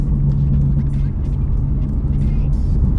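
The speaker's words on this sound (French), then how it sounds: "ça accélère un peu trop ces voitures-là" Passenger car accelerating close by, a steady low engine rumble with a droning tone that holds for most of the three seconds, with some talk faintly mixed in.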